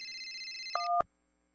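An electronic phone ringtone sounds once on an incoming call: a steady two-tone electronic warble that drops to a lower pair of tones, then ends abruptly in silence.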